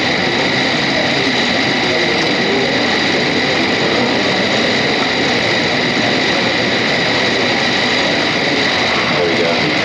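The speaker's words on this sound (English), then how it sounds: "I can also adjust the angle of pitch on the propeller on the fly with the swash plate" A small electric propeller, its pitch adjusted on the fly by a swash plate, spins with a steady, close whirring hum and high tonal whine that holds evenly throughout.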